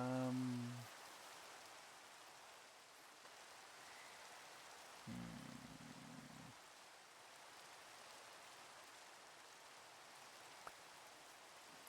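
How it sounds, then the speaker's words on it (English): Steady rain falls in the Minecraft video game, a continuous soft hiss that runs the whole way through, with a few brief game tones on top. "It's the rain."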